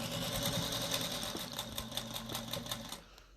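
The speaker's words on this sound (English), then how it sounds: "she's going to do a 1/4 inch seam" A sewing machine runs a quarter-inch seam on a patchwork zipper pouch, its steady rapid mechanical whir and stitching rattle close and continuous before slowing and stopping near the end.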